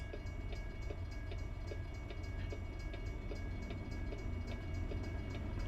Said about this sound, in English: Looks like a metro train, so it'll be quick.